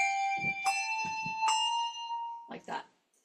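Handbells rung in vertical weaving at a quicker tempo ring out in two near, bright strikes whose tones sustain and overlap, followed by a softer double stroke, with a voice speaking between the rings.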